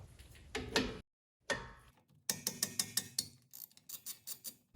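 A ratchet works loose a 13 mm slide bolt on the front brake caliper of a 2018 Chrysler Pacifica, with bursts of quick close clicks separated by a brief pause.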